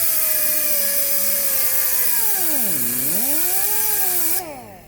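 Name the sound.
cutting car exhaust muffler flange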